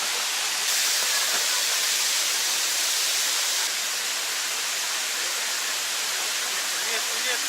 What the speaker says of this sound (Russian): Вот такой вот водопад Джур-Джур.